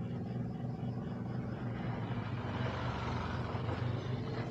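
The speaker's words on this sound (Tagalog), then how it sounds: "pasensyaan nyo kung meron kayo narinig na tunog ng sasakyan" Traffic on a road right beside a roadside store: a continuous low engine drone and rumble of passing cars and trucks, steady and moderately loud, with no speech heard.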